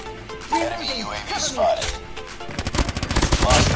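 Rapid automatic gunfire from Call of Duty Mobile, bursts of shots building into a fast rattling volley near the end, with a player talking over the game sounds.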